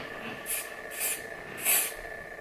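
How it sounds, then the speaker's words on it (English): Three short hissing bursts of hairspray onto gelled hair, close and evenly spaced, over a quiet background. "you spray little like bursts along where you put the gel"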